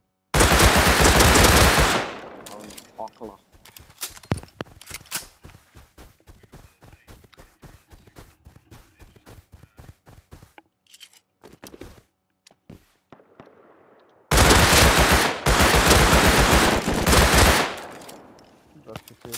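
LMG light machine gun fire in the video game Rust, loud sustained bursts at the start and end with scattered rapid shots and quieter clicks between, some faint talk mixed in.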